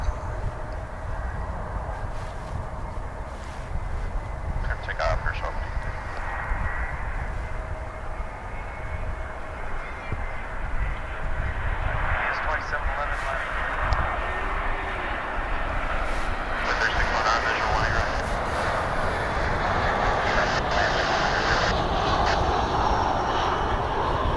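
Boeing 757 UPS cargo plane at DFW airport, a distant jet engine roar that builds gradually into a sustained whine and rumble, with faint talk in the background.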